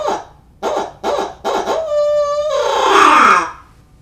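An owl locator call blown to imitate a barred owl, with four short hoots followed by a long, wavering, descending hoot, loud and close.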